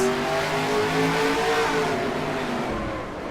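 Short-track race cars in the Santa Claus 100 roar loudly from a bumper-mounted camera, a close, steady engine howl with wind and road rush that fades slightly at the end.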